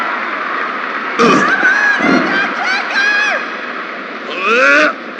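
Cheering and jeering wrestling crowd in WWF War Zone on PlayStation 1, a steady roar of massed voices with rising wavering shouts that swell in bursts and fade, dense and continuous.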